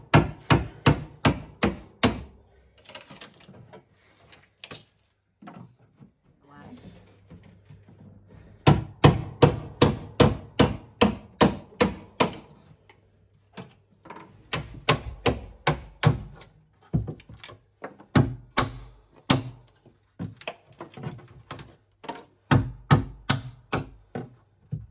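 A chisel splits wood during a wooden dinghy restoration, sharp repeated knocks in quick rhythmic bursts separated by short pauses, close and loud with no talk.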